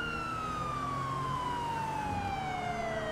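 An ambulance siren in GTA 5 wails steadily, falling slowly in pitch over a low rumble of traffic, moderately loud and continuous.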